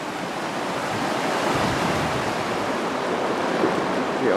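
Strong wind roars steadily into the microphone, a broad rushing buffet that stays loud and constant the whole time.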